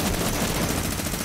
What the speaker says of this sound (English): Minigunning him.